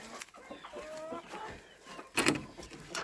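Hens clucking nearby in short irregular bursts, with a louder flurry of squawking near the end over outdoor farmyard noise during evening chores.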